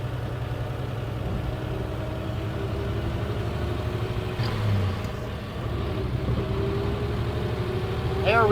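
A 1954 Chevy 3100 classic pickup engine pulls steadily while driving, a continuous low rumble with a slight rise near the end, heard from inside the cab.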